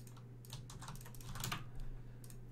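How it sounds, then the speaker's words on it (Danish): Rapid clicking of a computer keyboard and mouse, a busy patter of keystrokes and clicks at close range, steady and fairly quiet, with no talking. "I kan nok høre en masse klik,"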